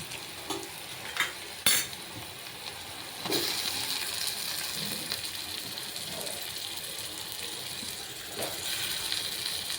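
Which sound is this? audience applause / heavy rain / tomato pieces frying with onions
tomato pieces frying with onions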